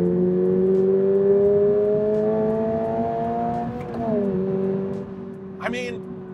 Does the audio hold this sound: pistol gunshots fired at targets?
no